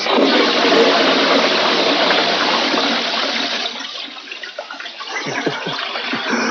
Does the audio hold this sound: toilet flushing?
yes